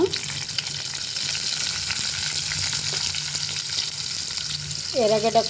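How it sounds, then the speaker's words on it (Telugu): Garlic and onion frying in oil for a dried fish and brinjal curry give a steady, close sizzling hiss throughout, with a brief voice near the end. "వేసిన తర్వాత కొంచెము నూనెలో వేయించుకోవాలి."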